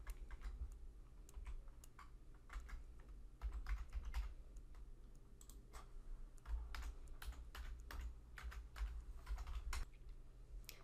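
Quiet, steady typing on a computer keyboard as a login and password are entered, with dense irregular key clicks and taps over a low background hum and no voices.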